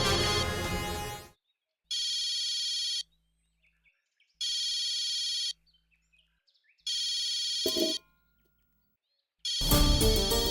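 A home telephone rings in four long, loud bursts separated by short pauses, close and alone with no voices, and a brief knock or rustle comes between the last two rings.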